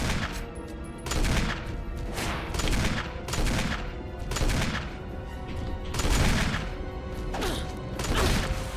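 Gunfire from the video game Resident Evil HD Remaster, a string of heavy booming shots roughly every second over a dense, loud game soundscape.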